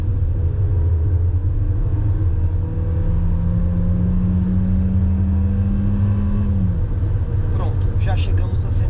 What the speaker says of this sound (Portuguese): vou acelerar com bastante força para a gente chegar rapidamente a 130